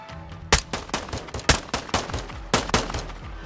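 Gunfire in the Modern Warfare 2 campaign cracks out in loud, close, irregular shots and short bursts, roughly a dozen reports, each with a punchy echoing tail.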